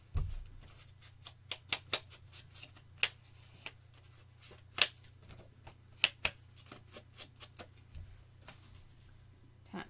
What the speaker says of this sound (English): I'm just going to ink the edges of my papers